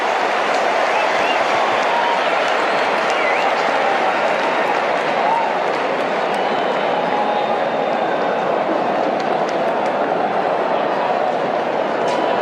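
A cricket stadium crowd yells and applauds during a super over, forming a dense, continuous roar of cheering and clapping from many distant spectators that holds steady without breaks.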